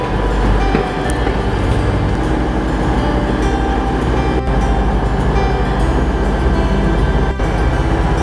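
A train rumbles at a platform of Sheffield railway station, a loud, steady roar of engine and rolling wagons that continues throughout, close by and with no one speaking.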